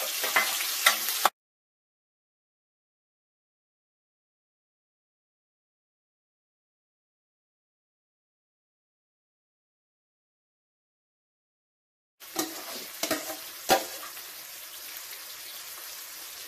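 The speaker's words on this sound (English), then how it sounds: "I make sure that the oil is hot enough. Then I'll go ahead and put in my onions and pepper and let them start sweating down a bit." Onions and peppers fry in hot oil for a Jamaican ackee and saltfish dish, giving a crackling sizzle in two bursts, a short one at the start and a longer one near the end, with near silence between.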